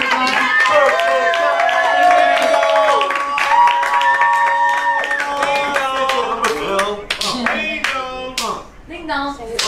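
An audience celebrates a birthday with a burst of raised, sustained voices, then scattered, sharp hand claps build toward the end, close and lively.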